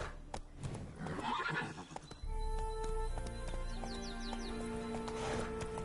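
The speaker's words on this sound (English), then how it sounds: "Run, Roach. Slow now. Whoa" A horse from The Witcher video game whinnies and its hooves clip-clop steadily, the neigh loud and close before settling into a rhythmic trot, with faint bird chirps in the background.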